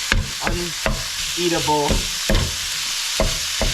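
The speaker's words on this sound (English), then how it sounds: "What this is called is browning the meat" Ground beef browning with spices in a pan for Bolognese sauce, with a steady close sizzle broken by repeated scraping stirring strokes and a few utensil clinks.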